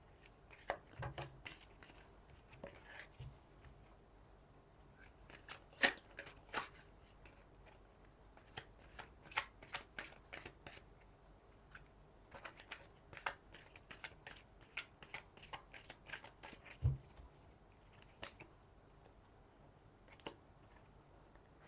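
A tarot card deck is shuffled by hand in a quiet room, with many crisp riffles and snaps of the cards coming close and clear in irregular bursts, and no speech.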